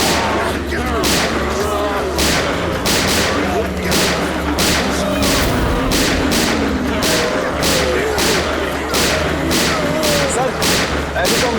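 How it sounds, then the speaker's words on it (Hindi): Rapid gunfire in a TV drama shootout, a long run of sharp, evenly spaced loud bangs crackling over a dense background of action noise and booms. "ऐसे तो हम बस गोलियां चलाते रह जाएंगे"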